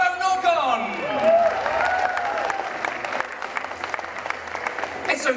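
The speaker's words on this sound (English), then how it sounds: "Can we have another clap?" A convention audience at a Doctor Who talk in Norfolk applauding, dense sustained clapping close and loud throughout, with a voice over it at the start and cheers mixed in.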